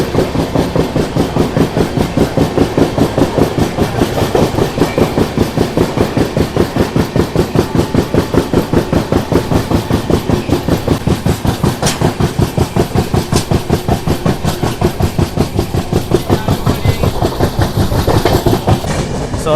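From aboard the 12622 Tamil Nadu Express running through Chandrapur station without stopping, a loud, unbroken clickety-clack of wheels on rail joints beats in quick, steady rhythm under a rolling rumble, with no one speaking.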